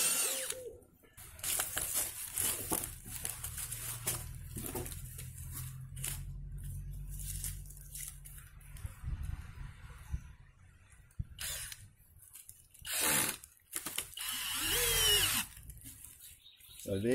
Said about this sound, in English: And we're going to drill a hole through here.